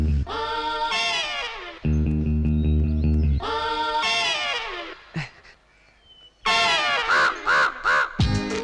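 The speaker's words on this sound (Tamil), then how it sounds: "ஏய் திருட்டு காக்கா" Loud, close crow-like cawing in a comedy film scene, several harsh calls in bursts with pauses between them, with voices heard in between.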